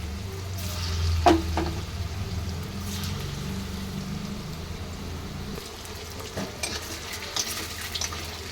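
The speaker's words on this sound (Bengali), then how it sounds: "লাল লাল করে ভেজে নিচ্ছি।" Chhena balls (rosh bora) deep-frying in hot oil, a steady close bubbling sizzle with a couple of brief utensil clinks and light stirring, no voices.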